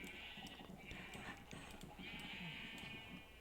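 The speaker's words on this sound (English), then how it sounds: "That is some noisy sheep." Noisy sheep bleat in repeated overlapping cries over a steady, crowded background that also carries a clip-clop of hooves, loud and continuous throughout.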